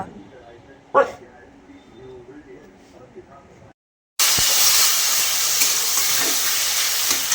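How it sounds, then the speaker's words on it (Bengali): Pabda fish frying in oil in a home kitchen pan, a loud continuous sizzling hiss with spattering crackles that starts abruptly and holds steady, preceded by quieter kitchen sounds and voices. "এইখানে মাছ ভাজা চলছে এত পরিমাণে ছিটকাচ্ছে"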